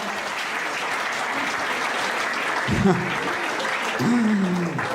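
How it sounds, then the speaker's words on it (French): A comedy club audience claps steadily in a sustained round of applause, with a voice briefly speaking in French over the clapping partway through. "je vous demande de vous applaudir"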